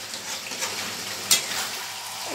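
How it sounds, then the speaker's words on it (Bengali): Chicken sautéed with spices in a pan, a steady close sizzle and fry hiss with light stirring scrapes and one sharp clink of a utensil, no voices. "আর এই কষতে কষতে চিকেন তো কষতে কষতেই সেদ্ধ হয়ে যায়।"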